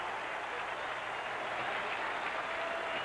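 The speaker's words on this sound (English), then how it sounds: "the fans here applaud Kentucky's defense" Fans at a 1976 Kentucky versus Penn State college football game applaud Kentucky's defense, a steady distant wash of crowd clapping and murmur, faint and even throughout.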